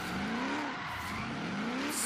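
Ford F100 street truck in Forza Horizon 3, its engine revving up twice in quick rising pulls at a steady moderate level, with no one talking.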